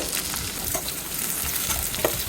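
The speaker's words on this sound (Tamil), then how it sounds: "பூண்டு பற்களையும் இது கூட ஒரு 10 பல் சேர்த்துக்கலாம். ஓரளவுக்கு வதங்கட்டும்." Onions and whole garlic cloves sauté in a pan for a brinjal and cowpea kootu curry, producing a continuous close sizzle with small stirring clicks. No voices are heard.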